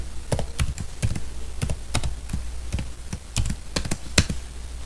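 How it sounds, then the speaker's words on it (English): Typing on a computer keyboard while filling in an online submission form, with steady irregular clicks of individual keystrokes close by and no talking. "Here I will type"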